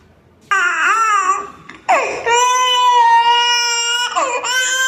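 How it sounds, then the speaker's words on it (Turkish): A baby cries loudly and close by, in long wailing bursts with brief catches of breath between them, high-pitched and sustained. "Ağlama sesi evet."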